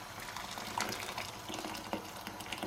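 Water is poured onto rice for matar pulao in a home kitchen, a soft, steady trickle and splash heard close and fairly quiet, with no talking.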